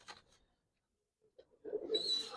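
Giribaz pigeons give soft, close coos: a short call at the start, a quiet pause, then a fuller run of cooing toward the end.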